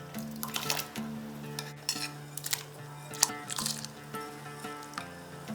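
Soaked rice added to a pot of boiling lentils for niramish khichuri, with soft rattling spills, spoon taps and metal clinks over a quiet simmer, close and without talk.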